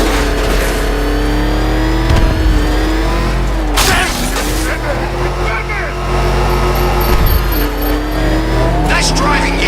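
Video game Batmobile-style car engine revving and roaring while driving in Batman Arkham Knight, loud and continuous with bursts of acceleration and tire noise, mixed under frequent excited voices talking over it.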